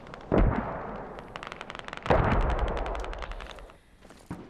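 Bursts of automatic rifle fire ring out in a military shooter game while mortars are being spotted from a high point on the map, with loud volleys near 0.3 and 2.1 seconds followed by rapid, fading shots.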